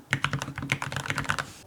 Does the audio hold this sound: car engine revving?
no